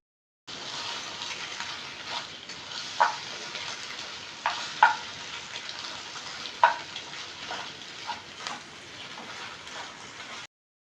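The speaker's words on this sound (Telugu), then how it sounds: "ఇప్పుడు బాయిల్ ఆన్ చేసి స్టవ్ ఆన్ చేసి ఎగ్ ఫ్రై చేయాలి" Eggs frying in oil in a pan on a stove, a steady soft sizzle running throughout with a few sharper crackles and spatters rising above it, close and fairly quiet, with no talking.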